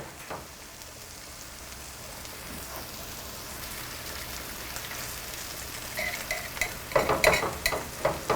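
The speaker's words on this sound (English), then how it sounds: "so we can flip these steaks." Steaks sizzle and spatter in a hot pan just after flipping for Steak Diane, a steady soft frying hiss that builds into sharper, louder crackles and pops over the last seconds, with no talking.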